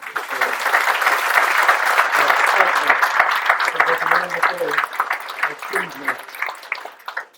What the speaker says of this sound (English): So let's celebrate by clapping our hands.